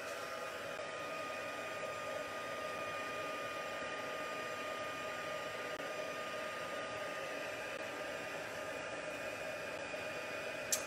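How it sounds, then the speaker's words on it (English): A heat gun blows a constant, steady whooshing hiss with a faint tonal whine while heating embossing powder. It sounds close and continuous, with no speech. "Using embossing powder and a heat gun."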